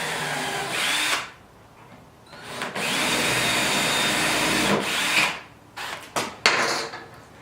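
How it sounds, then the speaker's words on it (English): A power drill pre-drilling holes in wood for a butcher block workbench whirs in several bursts, long steady runs broken by short pauses and quick stop-start revs near the end, close and loud. "We want to pre-drill all of our holes."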